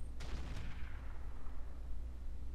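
Heavy AC-20 autocannon fire in the mech game RogueTech, a single loud booming shot with a rumbling tail that fades over about two seconds.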